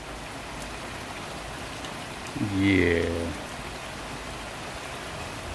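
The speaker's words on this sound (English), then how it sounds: "Holy crap, it's raining." Steady rain falls outside in a broad, even hiss that runs throughout, with a brief spoken word partway through.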